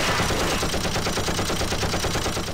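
Sustained rapid turret gunfire from a first-person shooter, a dense unbroken automatic burst that stays loud and close for the whole stretch with no talking.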